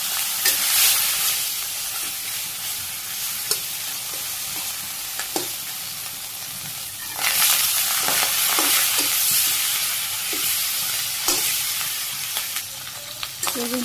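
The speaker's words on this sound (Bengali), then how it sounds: "যে মাথা দুই পাট করছি, দিয়ে তেলে দিয়ে দিলাম" Halved hilsa fish heads fry in hot oil with a dense, close sizzle and scattered pops and spatters, swelling louder midway; no talking.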